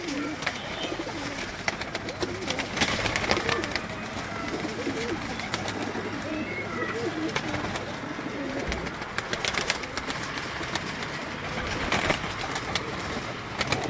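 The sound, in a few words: pigeons cooing on a rooftop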